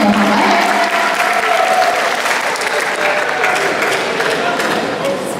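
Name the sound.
audience applause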